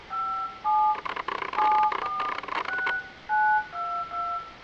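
Touch-tone dialing beeps from a Sprint Evo 4G phone, a quick series of two-note DTMF tones one after another, fairly faint over a quiet background, with no talking.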